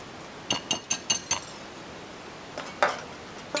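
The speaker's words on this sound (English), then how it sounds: "take a whisk and get these dry ingredients incorporated very, very well" A whisk clinks against a bowl while stirring dry flour and baking powder for buttermilk biscuits: a quick run of five bright rhythmic taps, a pause, then a few more scattered clinks, close and clear with no talking.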